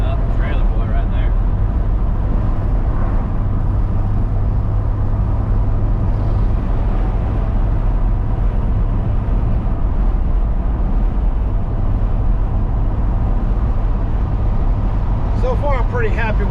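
A 1984 Chevy square body truck on a work trip to the dump, its engine humming in a loud, steady low drone inside the cab while driving, with road rumble and a voice talking over it.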